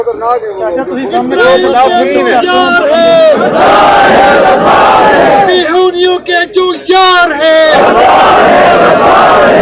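A large outdoor crowd at a political speech in front of Parliament House chants slogans loudly in unison, rising and falling in repeated call-and-response bursts.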